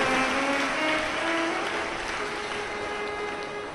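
Audience at a Shiva Mahapuran religious discourse applauding loudly, a steady dense wash of clapping that fills the whole stretch with a slight easing toward the end.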